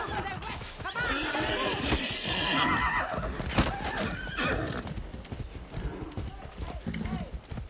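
Horse hooves clip-clop at a gallop while the animal neighs and whinnies in the Far Cry 6 video game, loud and close amid game sounds, with a voice talking intermittently underneath.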